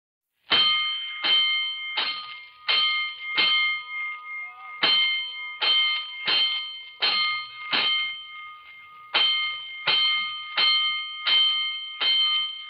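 A rapid series of fire alarm bell strikes from a 1949 radio drama rings loud and clear in about fifteen bright, metallic clangs grouped in bursts, with short pauses between the sets.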